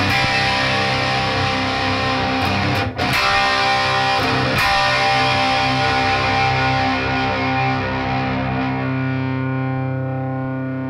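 Down-tuned Fender Jazzmaster Player Series electric guitar with heavy distortion chugging djent riffs, loud and dense, with a brief cut near the middle before a long ringing chord fades out alone.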